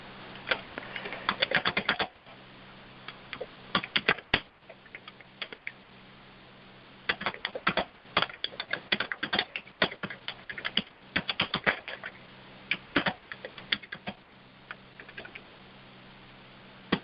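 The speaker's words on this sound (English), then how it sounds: "Oh, looks like someone's typing." Typing on a computer keyboard during an online presentation: irregular bursts of quick key clicks with short pauses between them, close and clear over a faint steady hum, no talking.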